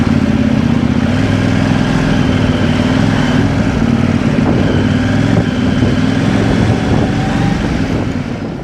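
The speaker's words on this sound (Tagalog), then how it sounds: "Ito yung tunog ng after na nating mapalitan yung exhaust." CFMoto 800MT motorcycle with an aftermarket slip-on exhaust runs with a deep, throaty rumble, steady and loud throughout, with a rough low drone and some wind noise; no talking.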